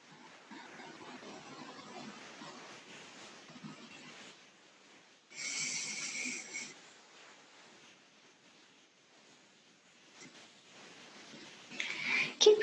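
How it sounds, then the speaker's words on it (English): Deep, loud breathing during a yoga session: long airy inhales and exhales, close and hissing, with one stronger breath midway and a louder one at the end. "Make the breath nice and loud in your ears."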